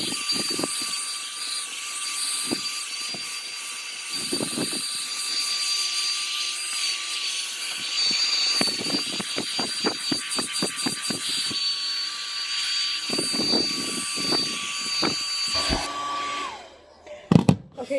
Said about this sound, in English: if you're using a hairdryer, you're going to put it on medium heat and full blast.